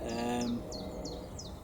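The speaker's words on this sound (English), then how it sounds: "Every now and again you hear it go squawk squawk. Well, that's a jay, not a blue jay, just a jay." A jay (not a blue jay) calls outdoors in a garden, a few short squawking notes in quick succession, fairly clear against a low background hum, with no speech.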